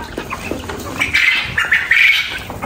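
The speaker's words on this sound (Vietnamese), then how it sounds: "Có mấy bồ câu nó vô nó dành ăn đây nè" Quail and pigeons crowd in to eat chick feed, giving loud squawks and chirps with soft flutters and scuffling close by, the calls rising and overlapping in the second half.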